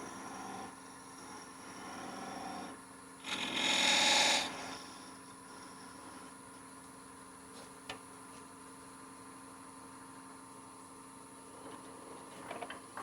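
A wood lathe turning a Christmas bell hums steadily as a skew chisel bites in for one loud, rushing cut lasting about a second, then the spinning continues quietly with a few faint ticks.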